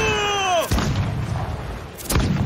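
Ship cannons fire in a naval battle in Assassin's Creed IV: Black Flag, two heavy booming blasts about a second and a half apart, the first following a descending whistle-like tone, over a rumbling sea-battle background.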